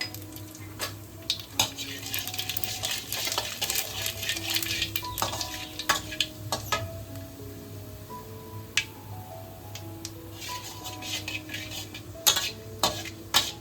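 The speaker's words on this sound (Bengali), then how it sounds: "এবার আমি কিছু শুকনো লঙ্কা আর কালো জিরে ফোড়নে দিয়ে দিলাম।" Dry red chillies and nigella seeds sizzle in hot oil as a tempering for a brinjal curry, a steady frying hiss punctuated by scattered clinks and scrapes of stirring in the pan.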